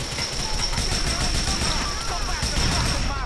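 Rapid gunfire from a weapon in Grand Theft Auto IV crackles in a dense burst of repeated shots, continuous and loud over game background noise.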